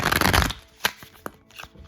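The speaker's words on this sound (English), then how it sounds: "I'm gonna do a shuffle." Tarot cards being shuffled, a quick riffling flurry followed by a few soft taps and slides as the deck settles.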